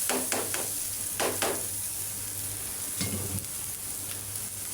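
Noodles and vegetables sizzle steadily in a hot pan during stir-frying, a dense close hiss broken by a few scraping stirs of the utensil, with no talking.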